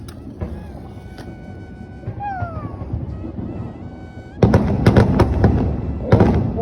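A flower pot firework (pushpanam) fountain burning during Diwali, first a low hiss with whistling tones, then a loud sustained crackling spray with sharp pops that fades and flares again.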